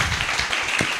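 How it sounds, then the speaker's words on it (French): A church congregation applauds in a dense, steady wash of clapping that fills the whole short stretch, loud and close, with no distinct voices rising above it. "Applaudissons Jésus, alléluia."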